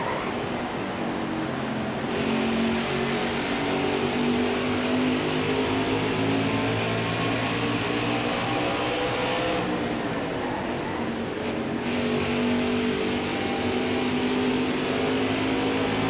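Racing truck engines at full song on the Richmond oval during a Gander Truck Series race in NASCAR Heat 5, a steady continuous drone with layered engine tones and slight shifts in pitch as trucks pass.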